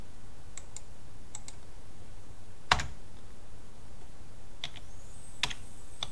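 Sparse, light clicks of computer keys being typed, with a few short isolated taps and one sharper louder click, over a quiet background.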